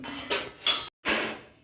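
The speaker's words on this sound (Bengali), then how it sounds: "এবার ঢাকা দিয়ে দিচ্ছি" A lid goes over a cooking pan for chakli pitha, a few short scraping clatters of metal, close and clear, with a brief silent gap between them.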